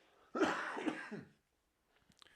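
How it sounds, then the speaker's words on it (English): A single harsh cough bursts out close by, followed by a short rasp and then quiet with a few faint rustles. "I got a cough. My apologies."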